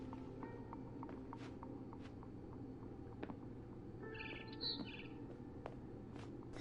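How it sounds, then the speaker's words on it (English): A barn swallow chirping from What Remains of Edith Finch, heard as a short bright call of a few notes midway through, standing above a steady low hum of game ambience with faint scattered ticks. "Then I heard chirping outside my window. It was a barn swallow going back to her nest."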